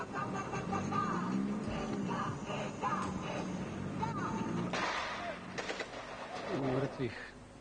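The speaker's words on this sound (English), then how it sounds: "You will also hear gunfire." Sharp bursts of gunfire crack at a distance in a few clusters, mixed with talking voices and scattered bird sounds.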